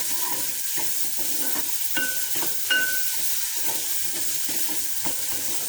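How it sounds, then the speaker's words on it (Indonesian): Shallots, garlic and spring onion sautéing in a pan over low to medium heat, giving a continuous close sizzle broken by soft scraping and stirring taps, with no one speaking. "Kita tumis sampai harum, sampai bawang merah, bawang putih, dan daun bawangnya matang."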